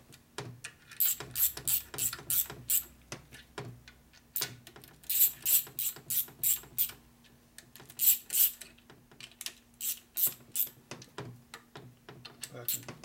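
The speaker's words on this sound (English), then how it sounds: "Tighten in the cross pattern." A hand ratchet tightens bolts in a cross pattern during engine assembly on a 1967 Harley-Davidson FLH with a 74ci Shovelhead motor. It makes bursts of quick, crisp clicks with short pauses between strokes, close to the microphone.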